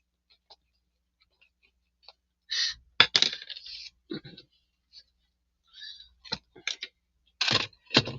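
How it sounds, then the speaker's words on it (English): A ridiculously long plastic comic bag flap being trimmed with scissors, heard as a few sharp snips and crinkly rustles in uneven bursts, close and fairly loud with quiet gaps between. "I'm gonna trim this ridiculously long flap."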